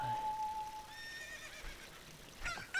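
Epona, the horse in Zelda: Ocarina of Time, gives a neigh: a thin, wavering whinny in the middle of the clip. A sharper burst follows near the end, over a faint background.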